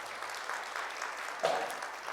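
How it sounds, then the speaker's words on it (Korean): Applause from a congregation at a church service, a soft, steady patter heard faintly and at a distance, with a brief louder swell partway through. "네, 박수해 주시기 바랍니다."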